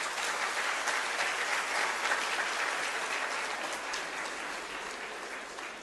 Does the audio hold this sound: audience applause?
yes